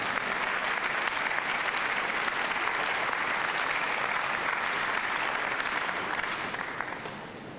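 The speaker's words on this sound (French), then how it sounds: "il est même applaudi par son adversaire sur ce dernier coup droit" Dense, steady applause from a tennis crowd at the Basel 2000 indoor tournament fills the whole stretch, loud and continuous, tapering slightly at the very end, with no talk over it.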